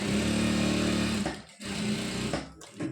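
A sewing machine stitches churidar pants in short bursts, a close steady whirring drone that stops briefly twice before resuming.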